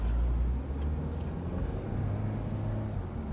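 A used car bought at a dealer auction being driven out of the lot, with a low, steady engine rumble close by and faint traffic-like noise around it.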